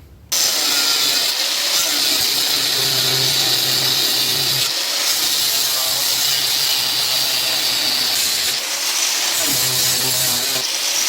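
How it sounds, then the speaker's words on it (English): A power tool cuts a seam across the steel back plate of a 6x4 garden tractor, a loud continuous high-pitched whine that briefly dips and resumes a few times, with no talking. "cut this seam across here so that this back plate can come off."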